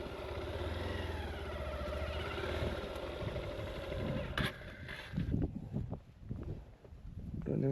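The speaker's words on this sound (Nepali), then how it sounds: "टन्नै बाइकहरू आएछ ल" Several motorcycles arriving and idling at a hilltop stop on Khumai Dada near Pokhara, a steady engine rumble that breaks into irregular revving bursts toward the end, with faint voices in the background.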